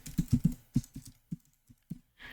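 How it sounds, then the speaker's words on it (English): Someone types an IP address on a computer keyboard: a quick run of close, crisp key clicks, then a few slower, spaced taps, with no talk. "let me type the IP"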